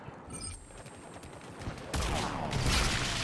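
Rapid video game gunfire in Mass Effect 3 rattles as a dense fusillade, quieter at first, then a louder, sustained burst of shots with no speech.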